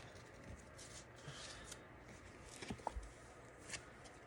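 Tarot cards being shuffled by hand at close range: quiet, soft rustling and riffling with a few light taps, and no voices.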